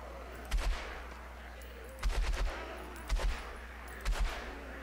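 Four separate bursts of gunfire in the zombie shooter Contagion, at roughly half-second, two, three and four seconds, each short and sharp over a steady low game ambience, with no talking.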